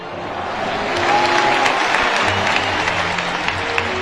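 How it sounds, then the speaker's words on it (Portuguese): A crowd at a football gathering gives a round of applause in tribute to lost teammates. Broad, continuous clapping swells in the first second and then holds steady and fairly loud to the end. "E eu queria humildemente que todos pudessem dar uma salva de palmas àqueles irmãos que se foram."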